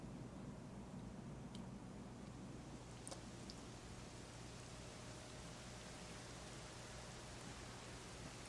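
Steady, faint rain hiss falls continuously in a Dragon Quest XI game scene, with no other sounds standing out.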